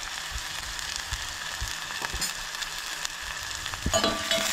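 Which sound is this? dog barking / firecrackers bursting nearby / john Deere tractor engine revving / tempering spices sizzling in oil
tempering spices sizzling in oil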